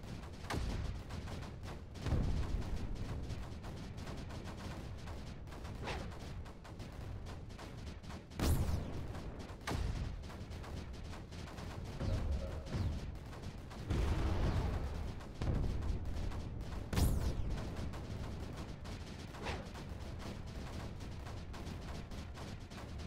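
Cannon fire in the strategy video game Creeper World 4: repeated booming shots at irregular intervals, several sharp loud blasts standing out over a continuous rumbling battle background.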